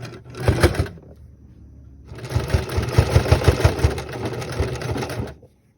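A sewing machine stitches close to the edge of a stretch velvet mask: a short burst of rapid needle strokes, a pause, then a longer steady run of close, loud stitching with no voices.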